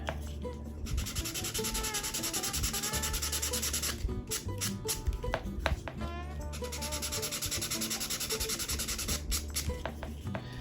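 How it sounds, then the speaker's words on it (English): Sandpaper scuffs a cardboard model rocket body tube close up in continuous rapid back-and-forth rasping strokes, with a few brief pauses and no talk. "So I'm just going to scuff up the tube to the right side."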